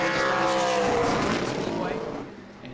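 A super late model race car on a qualifying run at New Smyrna, its engine roaring loud and close, then the pitch sweeps and fades as it passes, with an announcer talking over it.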